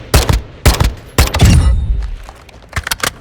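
Full-auto assault rifle fire in Modern Warfare 2: several short, loud bursts of rapid shots, each rattling off with a thudding low end, then a scattering of quieter trailing shots and echoes.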